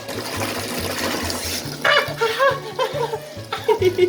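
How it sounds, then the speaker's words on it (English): A hand splashes and sloshes in warm soapy water close by, with a short chuckle and some laughter over it. "Gotta splash it to make the suds grow, you know?"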